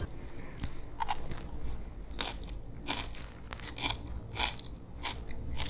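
Salted napa cabbage for kimchi being bitten and chewed up close, a run of crisp, wet crunches in an uneven rhythm, clear and fairly quiet, with no talking.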